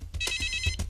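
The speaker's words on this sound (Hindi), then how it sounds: "मिस्टर माल्या, क्या आपका फोन?" A telephone ringtone trills in short repeated bursts in a quiet office during an official conversation, heard clearly on its own with no talk over it.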